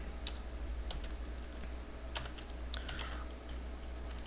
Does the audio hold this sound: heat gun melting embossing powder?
no